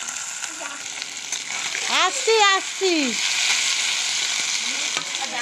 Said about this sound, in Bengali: দেখো বন্ধুরা, মাছ ভাজা চলছে